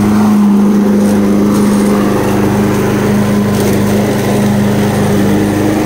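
A lawn mower engine runs steadily and loudly throughout, a constant droning hum with no pauses or voices.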